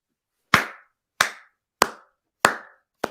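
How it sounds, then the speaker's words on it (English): One person claps five sharp, crisp claps at a slow, even pace, each clap separated by silence, with no talk. "this is a clap for international basketball"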